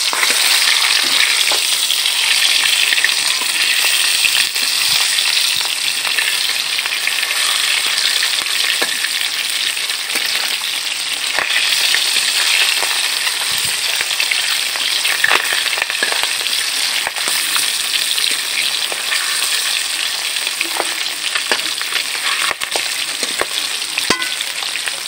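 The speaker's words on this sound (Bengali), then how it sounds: "আমি আর এক পাশটা উল্টে ভেজে নেব।" Magur catfish, turned onto the other side, keep frying in a kadai: a loud, continuous bubbling sizzle with frequent crackles and spits that goes on without pause.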